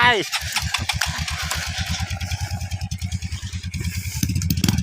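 A dirt bike with water in its exhaust firing up after riding through water, then chugging in rapid, regular pulses with a wet, sputtering edge before revving near the end; a person talks over it.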